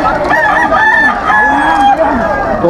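A White Kelso rooster at a pet market in Malabon lets out loud, close calls with clucking and fowl noise packed together in a short burst.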